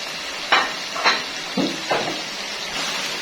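Chicken karahi with garlic, ginger, salt, turmeric, coriander and red chilli sizzles steadily in a pan, with a handful of distinct stirring scrapes at a slow, uneven rhythm, close and fairly quiet.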